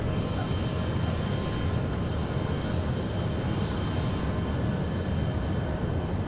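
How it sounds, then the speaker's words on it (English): Airliner rolling out after landing in X-Plane 10 with speed brakes and reverse thrust engaged, a steady loud broadband engine roar that holds constant throughout. "You put the speed brakes on, reverse thrusters."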